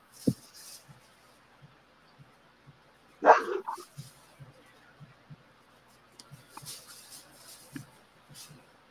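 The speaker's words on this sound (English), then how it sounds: "They're just all running around, acting like they got something to bark at." Several dogs running around a fenced yard and barking, with one loud close bark burst and scattered fainter yips and woofs around it, interspersed with quiet gaps.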